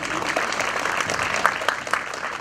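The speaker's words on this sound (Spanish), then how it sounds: "Aplausos para el señor presidente." Applause for the president at a religious tribute to the Virgin of the Rosary, a steady crowd clapping at moderate volume throughout the short stretch.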